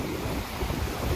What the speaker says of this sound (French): Et on a beaucoup de vent. Ça monte à 30 nœuds.